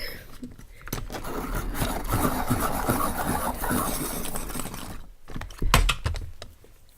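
A coloured pencil is sharpened with a continuous scratchy, woody grinding for several seconds, close and steady, then a short pause and a few louder knocks and scrapes.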